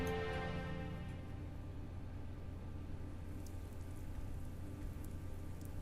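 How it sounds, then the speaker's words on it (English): Steady falling rain as an ambient effect in the Fate/Stay Night visual novel, a dense continuous hiss of drops with a low rumble, constant and unbroken throughout with no voices. "Falling rain."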